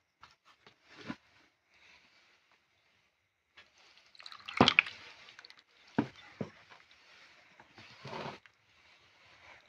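Pitha batter of rice flour and water mixed by hand in a bowl for fried teler pitha, giving soft wet squelches and drips in scattered bursts, loudest mid-way, close and quiet with no talk.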